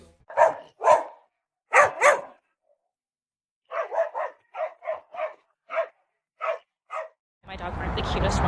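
A pet dog barks in short bursts, first a few loud barks, then a quicker run of sharper yips, ending in a burst of rustling noise.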